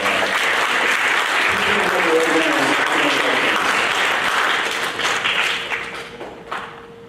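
A school audience applauds at a 7th grade awards program with loud, sustained clapping and some crowd murmur, which thins out and fades toward the end.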